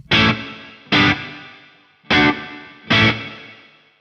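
Four sharp percussive hits, each followed by a short reverberant tail that decays quickly, giving the feel of a small room.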